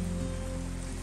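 A swollen jungle creek running full after rain, a dense, steady rush of flowing water close by, continuous and with no talking.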